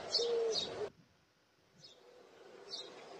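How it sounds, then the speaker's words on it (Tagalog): A bird calls with a burst of bright, close chirps and whistles, then falls quiet, with two fainter chirps following in a calm setting. "Ito ay isang ibon."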